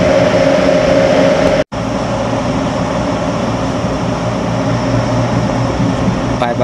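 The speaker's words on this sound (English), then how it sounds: "And it's quite a full train." Inside a crowded GO Transit commuter train riding toward Union Station, a steady low rumble and hum of the moving car with ventilation noise, briefly cut by a short dropout, with faint voices in the background.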